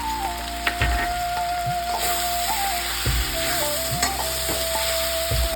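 Water poured into frying curry masala for a drumstick flower curry, giving a loud, steady sizzle with a sustained tone, broken by repeated clanks of a spoon stirring the pan, no talk.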